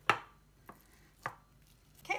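Knife cutting through bacon strips on a board, four sharp separate chops spaced irregularly over a quiet background.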